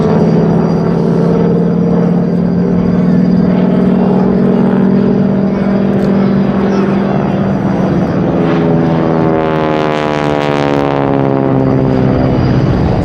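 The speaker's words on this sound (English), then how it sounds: "Those three aircraft now heading round behind us to land." Loud North American Harvard propeller aircraft drone steadily overhead at an air show, engine pitch sliding downward as they pass close by heading round to land, a continuous roaring buzz throughout.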